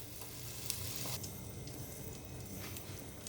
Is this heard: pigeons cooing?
no